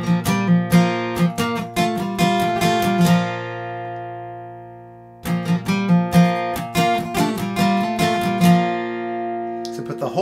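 An acoustic guitar plays the second part of a song intro, crisp plucked notes in a quick repeating phrase, played twice with a pause between, close and clear.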